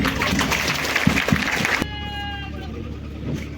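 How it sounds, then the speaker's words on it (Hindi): A crowd applauds at a police passing-out parade at a fort, a dense patter of clapping for nearly two seconds that stops abruptly, leaving quieter outdoor ambience. "तालियों से इनका उत्साहवर्धन करें।"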